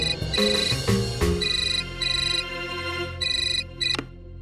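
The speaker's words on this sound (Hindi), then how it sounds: "विराट, तुम्हारे लिए फोन है" A landline telephone rings with an incoming call in a home, a loud electronic ring repeating in regular bursts over a low background hum.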